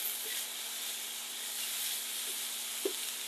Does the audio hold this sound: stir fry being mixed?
yes